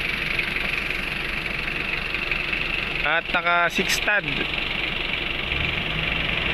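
An Isuzu diesel engine idles in a 4x2 Wrangler-style jeep with a Toyota five-speed drivetrain: a steady, close mechanical hum runs throughout, while someone speaks briefly in the middle.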